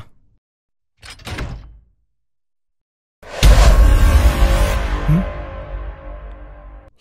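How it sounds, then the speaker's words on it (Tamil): A door in a multi-storey building, in a Tamil horror short film, gives a short muffled knock, then closes with a loud heavy thud that rings and slowly fades, with no talking. "கதவு மூடுற சவுண்டு வந்துச்சு"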